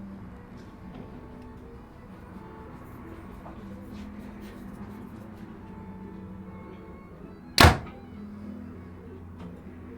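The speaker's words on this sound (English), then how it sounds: "Third and final shot with the Helix Ultra." One sharp snap of an arrow released from a Hoyt Helix Ultra compound bow, a brief crisp crack partway through against quiet background ambience.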